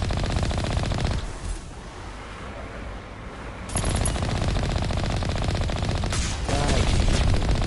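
Automatic weapon fire from a Mass Effect Legendary Edition firefight, with loud sustained bursts that drop away for a couple of seconds and then resume, carrying through to the end.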